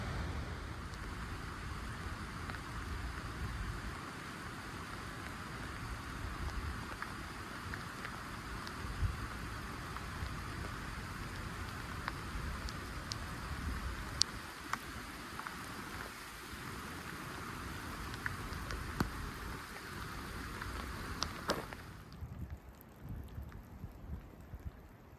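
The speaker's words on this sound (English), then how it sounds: "sprinkling right now, but it was raining pretty good a few minutes ago." Light rain sprinkles steadily during a mountain hike in Glacier National Park, a soft continuous patter with faint wind, close and even throughout, easing slightly near the end.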